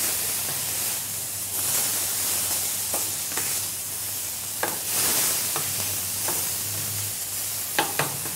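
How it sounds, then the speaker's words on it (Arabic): Food sizzles in a hot pan with soy sauce and vinegar while a utensil stirs and scrapes through it, a steady close hiss of frying broken by occasional clinks and scrapes, no voices. "نبلش نحرك فيها"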